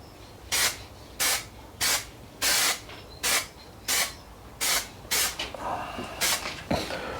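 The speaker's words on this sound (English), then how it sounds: "let's get on and give it a first coat of etch primer" Short aerosol bursts of etch primer spray onto an alloy part, about ten evenly spaced hissing puffs of similar length, fairly close, with quiet pauses and small clatters between them.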